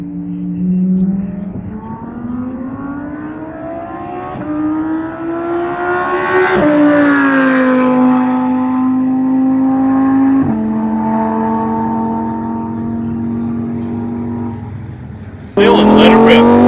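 A Lamborghini Performante is driven hard around the Speed Vegas track in Las Vegas. The loud, close engine climbs in pitch through each gear and drops at every shift, with a voice talking over it.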